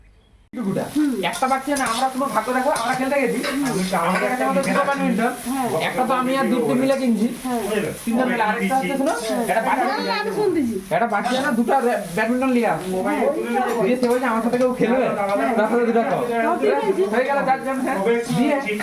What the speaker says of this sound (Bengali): এবার উচ্ছে আলুটা ভাজছি